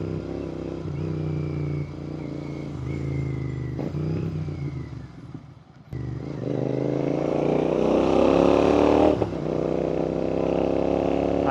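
Royal Enfield GT650 twin with an aftermarket exhaust idling with a deep throb, briefly cutting out, then revving up to a louder, rising roar close to the microphone.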